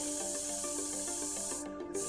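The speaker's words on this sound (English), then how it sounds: "I'm just testing the spray, make sure I've got a good flow." A fine paint mist hisses steadily from an airbrush being test-sprayed, a continuous breathy spray that cuts out briefly near the end, with a faint tonal hum beneath it.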